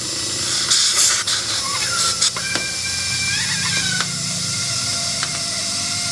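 Air hissing steadily into an old tire on a 1979 GMC Caballero that sat abandoned for eight years, close and continuous with a few faint clicks and squeaks, no voices.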